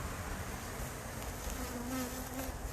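Honey bees buzzing around an open beehive, a dense continuous drone of many insects close by, faint but steady and without talk.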